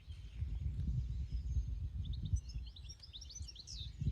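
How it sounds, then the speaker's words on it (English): Outdoor birdsong including goldfinches, with a run of high, quick twittering chirps in the later part over steady low background rumble, moderately distant and without speech. "I'm listening for the goldfinches."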